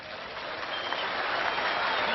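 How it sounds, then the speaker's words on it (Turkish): Audience applause at a football signing ceremony for Malouda and Bosingwa, a steady wash of many hands clapping at moderate volume without pause, no distinct voices. "Sizler de alkışlarınızla teşekkür ettiniz"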